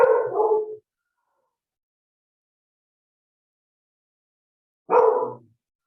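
A dog barks in two short bursts, roughly four seconds apart, with silence in between during a calm indoor yoga session.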